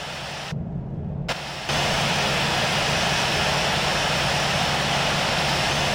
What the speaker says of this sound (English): request taxi to parking